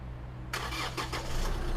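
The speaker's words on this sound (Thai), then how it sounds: "เราสามารถที่จะสตาร์ทรถโดยที่บอกว่าเอ้ย ยังไม่ได้เข้าไปนั่งในตัวรถนะ" A 2017 Chevrolet Colorado 2.5 High Country pickup engine fires up by remote key fob after a quiet hum, catching with a sudden crank and settling into a steady idle, close by.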